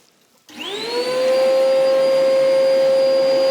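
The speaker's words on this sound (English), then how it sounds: "Must use an extractor when you're using a machine like this. So let's just turn on the extractor." A dust extractor, switched on while using a woodworking belt sander, whirs on after a short silence, spinning up into a loud, steady motor roar with a high tonal whine that holds to the end.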